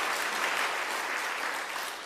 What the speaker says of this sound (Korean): 우리 좀 감사의 박수로 좀 올렸으면 좋겠습니다